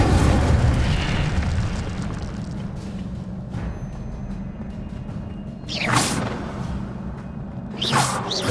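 Incendio fire spell cast in Hogwarts Legacy, a deep rumbling burst that trails off, followed by two sharp whooshing flares near the end.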